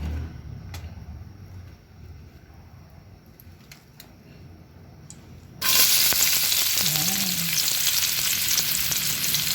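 White onions dropped into hot oil, a quiet stretch giving way to a sudden loud, steady sizzle that fills the rest of the clip, close up and without talk.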